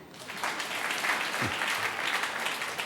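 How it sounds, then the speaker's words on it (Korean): A church congregation at a Sunday worship service claps together in a steady wash of applause lasting a few seconds, heard from a distance in a large room. "동의한다면 박수."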